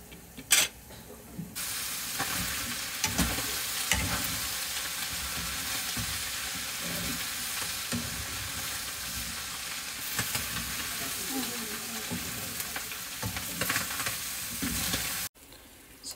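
Ground pork fries in a pan with hotdog, a loud, close, steady sizzle and hiss that runs on without a break, with occasional stirring scrapes and no talking.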